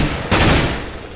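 Counter-Strike GO gunfire during a friendly-fire moment: a close, loud burst of rapid shots that starts abruptly, then decays over about a second.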